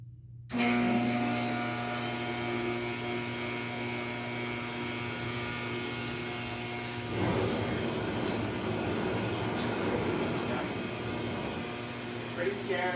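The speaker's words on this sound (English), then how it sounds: "turn the dryer on low and see how she reacts." A hair dryer on its low setting switches on and runs with a steady whirring hum and airflow hiss, continuing evenly with no pauses, used on a Chihuahua after a bath.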